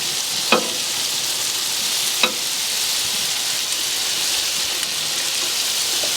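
Blackened catfish and shrimp fry in a pan with a steady, close hiss of oil, broken by two or three soft clicks as pieces are turned.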